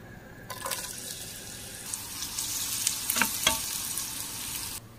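Onions fry in a generous amount of oil in a pan for a fish curry, giving a steady, moderately quiet sizzle with a few brief crackling spikes, and no voices.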